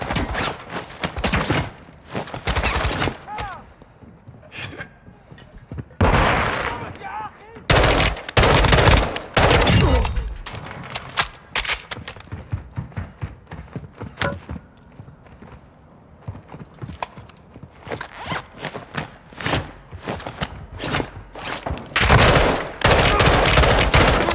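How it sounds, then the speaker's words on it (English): Heavy gunfire in Call of Duty MW2 DMZ, loud rapid automatic bursts and single shots cracking repeatedly in close range throughout, with brief lulls and occasional radio voices. "Taking effective fire!"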